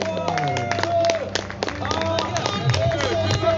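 Applause and cheering from a crowd at a street football panna battle, steady clapping under a loud announcer voice over music.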